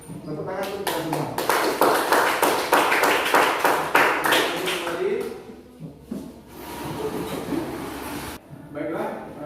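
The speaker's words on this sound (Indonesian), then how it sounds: "Tepuk tangan untuk kita semua." A classroom group claps hands together in a quick, steady rhythm of distinct sharp claps that build and then break off, with talking around them and a final short burst of clapping near the end.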